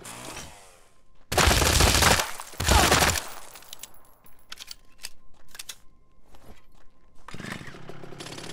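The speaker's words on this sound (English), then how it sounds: "I think I'm getting shot at." Gunfire in The Front survival game: two loud, sustained bursts of rapid shots around the start, followed by scattered sharper single reports and a closing burst, with no talk.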